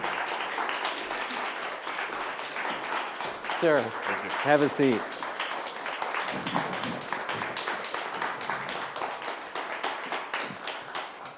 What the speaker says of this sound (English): I encourage you even more specifically to applaud and welcome him to the stage tonight.